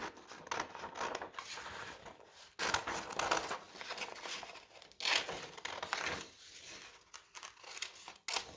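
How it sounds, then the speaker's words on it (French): Scissors snipping through paper in short bursts with pauses between, close and quiet, accompanied by light paper rustling. "Il va le découper, donc c'est un peu comme un tableau."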